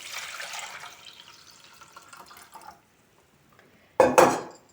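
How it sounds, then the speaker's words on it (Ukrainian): Mushroom soaking water splashes and pours into a pot in a short, loud burst after a quieter stretch of faint kitchen rustling. "Вливаю воду, в якій замочувалися гриби."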